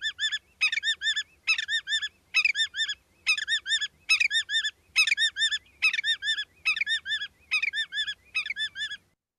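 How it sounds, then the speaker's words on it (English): Played recordings of a willet calling, a rapid series of about a dozen loud, clear repeated call phrases in an even rhythm with short gaps between them against a quiet background. "And they'll do variations of willet, willet, or pill, will, willet, and kind of variations on that theme."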